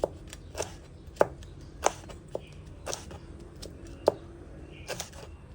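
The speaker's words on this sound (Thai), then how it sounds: "แล้วค่อย ๆ ซอย เป็นเส้นเล็ก ๆแบบนี้ค่ะ" A knife slices ingredients into fine thin strips on a cutting board for a seafood steamed egg dish, giving close, irregular taps and knocks, about ten strokes in uneven rhythm, with no voices.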